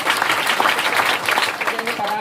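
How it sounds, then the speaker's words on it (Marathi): An audience claps loudly and steadily to welcome guests on stage at a tobacco awareness programme, with dense applause filling the whole moment. "जोरात टाळ्या वाजवून त्यांचं प्रथम आपण स्वागत करूया"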